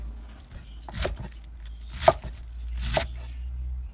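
A knife chops through cabbage in three separate crunchy strokes onto a board, spaced about a second apart, close by.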